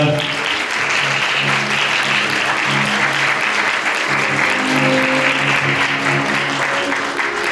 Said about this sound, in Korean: 우리의 결혼 기념일 큰 박수 부탁드리겠습니다